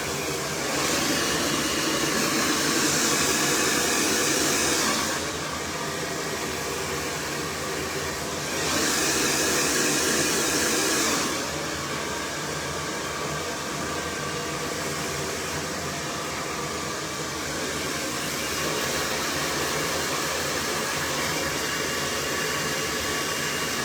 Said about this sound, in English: just go over with the blow dry a little bit more, just to completely dry the hair